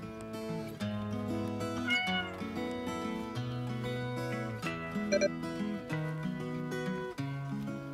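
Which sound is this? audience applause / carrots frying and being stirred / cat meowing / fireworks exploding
cat meowing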